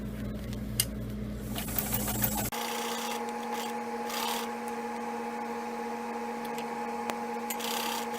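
A sewing machine stitches through a plastic trash bag, running steadily for about two seconds with a low motor hum, then stopping abruptly and leaving a quiet room with faint handling clicks.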